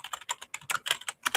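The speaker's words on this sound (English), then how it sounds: "Excuse me, as I'm typing." Quick, uneven bursts of clicking keystrokes on a computer keyboard, close and crisp, in a short run with no voices.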